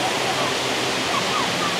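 Steady, dense rush of falling water at Dai Chong Thong waterfall, Sangkhla Buri, Thailand, fills the whole clip, a constant broadband roar with no pauses.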